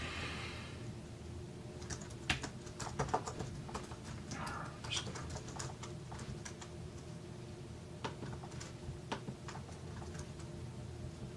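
Fingers type code on a computer keyboard in quick, light, irregular clusters of clicks, close but quiet over a steady low room hum, with no talking.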